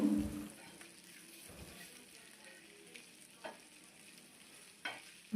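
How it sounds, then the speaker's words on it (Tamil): Fish frying in a pan for a home-style fish curry, a soft steady sizzle with a few light scraping knocks as the pieces are turned over, fairly quiet and without speech. "ஸோ இப்போ நான் திருப்பி போட்டுக்கிறேன் மீனை"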